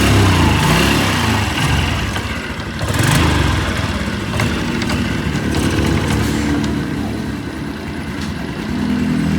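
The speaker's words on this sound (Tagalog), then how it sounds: "Pero pag nirevolusyon, yan o, parang lunod. Ayaw magtuloy." A small engine with a new carburetor runs roughly, rumbling and sputtering as it is revved, the loud uneven putter surging and sagging as if about to stall.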